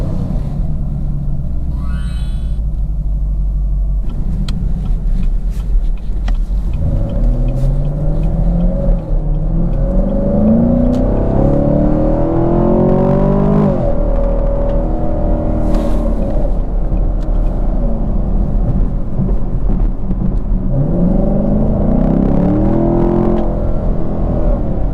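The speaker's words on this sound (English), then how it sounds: "I'm curious how loud the noise is when you're turning on the car from the inside of the car," From inside a 2020 Chevrolet Camaro SS Hendrick's Edition, the V8 engine drones and rumbles steadily while driving, with repeated rising pulls under acceleration over a constant low road and cabin roar.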